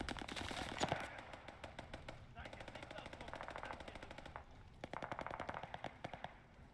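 Rapid automatic gunfire rattles through an intense Call of Duty: Vanguard beta match, with long sustained bursts broken by short pauses and quieter voices underneath.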